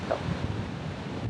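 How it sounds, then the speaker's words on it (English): Waves wash onto a beach as the tide comes in, a steady low rumbling surf mixed with wind buffeting the microphone, continuous and fairly close with no voices. "now this is the same beach, but the tide's coming in"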